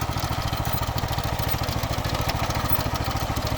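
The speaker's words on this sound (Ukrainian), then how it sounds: "ми показуємо, як тракторець копає картошку сам." A homemade mini tractor converted from a walk-behind tractor works a potato field with a conveyor-type digger, its small engine chugging steadily and close with rhythmic mechanical clatter throughout.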